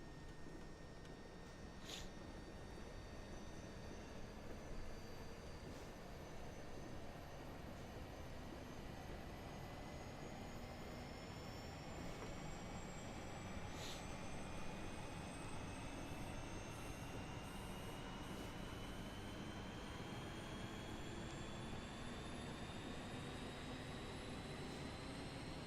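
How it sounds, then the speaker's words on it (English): The APU of an Airbus A320 spools up in Microsoft Flight Simulator. A steady, faint turbine whine rises slowly in pitch over a constant roar, with no speech. "Listen to the APU spooling up."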